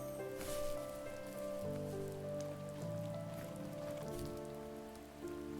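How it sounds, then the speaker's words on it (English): Rainfall in a video game, a steady patter of rain on surfaces under sustained background music, heard alone without talk. "Oh, I like the rain."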